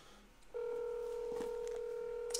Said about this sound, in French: Ah, on va éteindre notre téléphone.